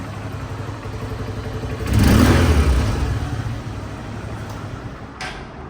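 A second-hand Honda CB Trigger motorcycle engine runs close by, its steady rumble swelling in one short rev before settling back to an even idle.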